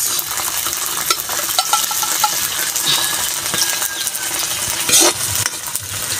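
Sardines and garlic frying in a pan, a dense continuous sizzle broken by scraping and clinks of a metal spoon stirring, with one louder scrape near the end.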